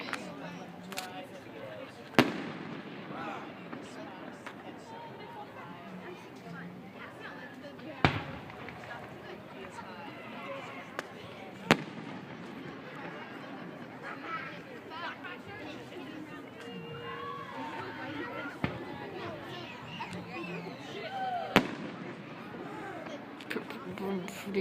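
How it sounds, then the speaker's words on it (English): Fireworks burst several times with sharp, loud bangs spaced irregularly, each a sudden crack standing out over constant crowd chatter and babble. "Fireworks."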